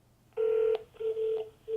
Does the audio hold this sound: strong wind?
no